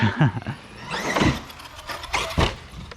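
An E-Revo 2.0 RC truck revs hard under heavy throttle, its electric whine rising and falling in a few surges, with scuffs and thunks from the chassis nearby.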